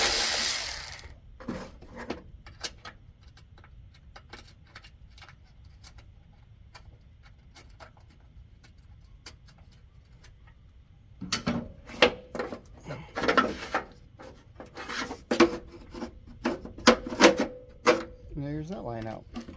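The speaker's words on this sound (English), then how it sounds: "just got to loosen this clamp here that holds this line down" A clamp holding a line on a Jeep Grand Wagoneer is loosened during front clip removal, heard as sparse metallic clicks and ticks that turn into busier clicking and rattling, with someone talking.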